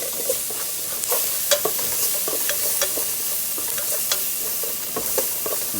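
Onions and garlic sauté in a pot while being stirred for a Zuppa Toscana soup, giving a steady sizzle with sharp scraping clicks and taps from a utensil scattered throughout, close and moderately loud.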